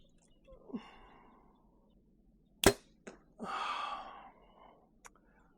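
A bow releases an arrow at 30 yards with one sharp, loud snap near the middle, followed by a softer thud and a breathy rustle of movement. Quiet ambient noise sits underneath the shot.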